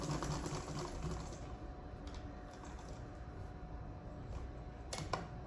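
A sewing machine stitches a dress strap in a steady, fast mechanical whir that runs without pause, with a couple of small clicks near the end and no voices.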